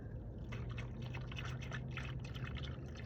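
Engine oil drains steadily from a car during an oil change, a continuous close pouring and splashing that holds at an even level throughout.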